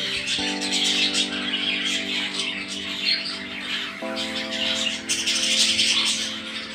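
Tame baby birds squawk and chirp insistently while being hand-fed, their harsh begging calls loud and close, running almost continuously over a busy background.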